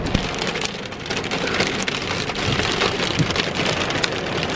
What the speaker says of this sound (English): It is freaking hailing!